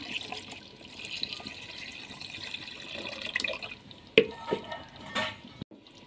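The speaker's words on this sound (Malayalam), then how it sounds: "ഇനി നമുക്ക് തേങ്ങയുടെ 1-ാം പാൽ ഒഴിച്ചെടുക്കാം" First coconut milk pours into a pan while coconut flower lehyam is being made, giving a soft, continuous liquid trickle with a few small clinks and no talking.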